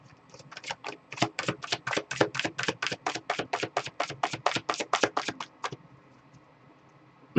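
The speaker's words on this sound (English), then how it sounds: "cards are well shuffled now." Tarot cards shuffled by hand in a steady run of about twenty quick, crisp slaps and riffles, close and fairly loud, then stopping into near silence.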